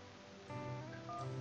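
A telephone number is dialed in the Natalie Brooks video game: a quick series of electronic keypad tones, short beeps in succession, faint and alone.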